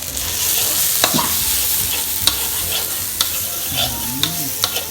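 Food stir-fries, sizzling loudly in a hot pan while a utensil scrapes and taps against the metal every second or so.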